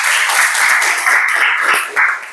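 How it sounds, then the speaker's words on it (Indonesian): Classroom applause from a group of high school students in an economics class, dense steady clapping that swells and holds for a couple of seconds, fairly close and loud. "Tepuk tangan untuk kita semuanya."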